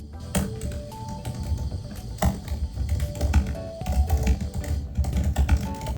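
Notes are typed on a computer keyboard in quick, close, irregular bursts of key clicks with a few louder thocks, continuing steadily for about six seconds with no talk.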